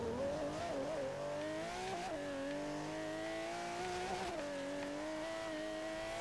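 A Mercedes-AMG racer in Forza Horizon 3 roars under hard acceleration, its engine note climbing and dropping through gear changes with brief tire squeal, steady and fairly loud throughout.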